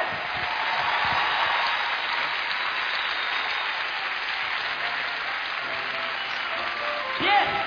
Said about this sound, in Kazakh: Тамаша, шапалақ қошемет.